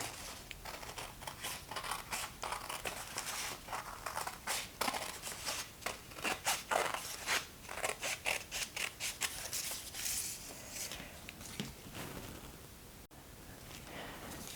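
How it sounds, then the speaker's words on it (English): Scissors snip along the crease of a paper envelope for a junk journal flip book, a steady run of crisp close cuts with paper crinkling between them, no talk. "So I'm just going to cut right along the envelope crease"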